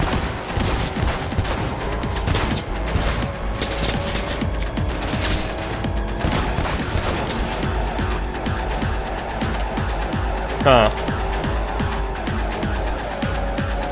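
A Cyberpunk 2077 shootout brings dense, continuous gunfire: rapid automatic bursts and overlapping shots rattle throughout, loud and close, with a vehicle rumbling underneath.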